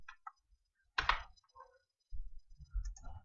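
A few light computer keyboard key presses, including the tab key, heard as sparse, faint, isolated clicks and taps in a quiet room.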